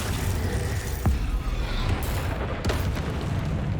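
Bombarda and Confringo spell blasts in Hogwarts Legacy, two deep booming hits about a second and a half apart, loud over a constant rumbling game background.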